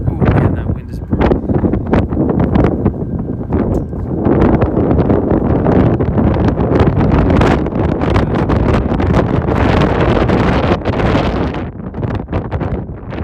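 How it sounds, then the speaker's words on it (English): Strong wind buffeting in Midtown Manhattan, a loud, continuous roaring rumble of gusts battering the microphone up close for over ten seconds, with a voice faintly audible beneath. "that wind is brutal"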